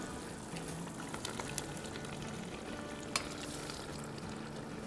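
Desi masala pasta being mixed in a single pot, giving a steady close sizzle with scraping and stirring clinks throughout and no talk.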